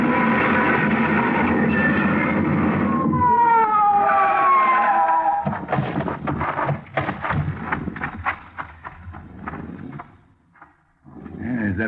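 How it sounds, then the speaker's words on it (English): A police car siren wails in rising and falling sweeps during a car chase, loud and near, then gives way to a rapid cluster of sharp bangs and clatter before a brief lull. "Whoever it was paid no attention to our siren"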